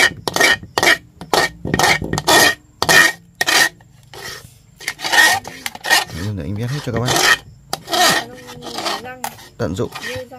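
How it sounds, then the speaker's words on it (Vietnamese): A rough tool scrapes and rasps over a hard surface, like mortar being scooped up, in repeated short close strokes with brief pauses. Voices talk between and over the scraping. "con ghê cái tiếng mà họ hót vữa ấy"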